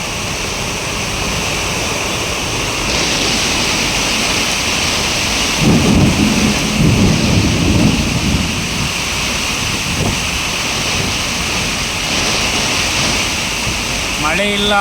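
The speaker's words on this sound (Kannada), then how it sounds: "ಇವತ್ತು ಮಳೆ ಹೇಳೋಕ್ಕೆ ಆಗ್ತಾಯಿಲ್ಲ, ಆ ರೀತಿ ಆಗ್ತಿತ್ತು ಮಳೆ. ಭಯಂಕರ ಮಳೆ" Heavy rain pours steadily during a fierce thunderstorm with strong gusting wind on a main road in Sonnapanahalli, a dense continuous roar with a louder surge midway and traffic noise faintly underneath.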